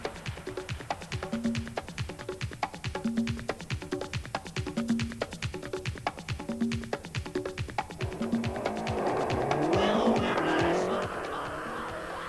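A Lancia rally car driven by Didier Auriol races along a stage, its engine revving hard in rapid repeated bursts through gear changes, then a rushing swell of tyres and gravel as it passes close by.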